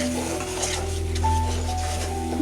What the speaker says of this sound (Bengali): তারপরে মশলাটা ভালোভাবে নাড়াচাড়া করে দিলাম।